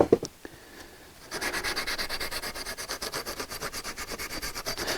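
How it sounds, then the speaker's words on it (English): A Scotch-Brite pad scrubs a corroded house water main pipe in fast, even back-and-forth strokes, a close rhythmic rasping that starts after a few faint handling clicks. "Now I'm using a piece of Scotch-Brite"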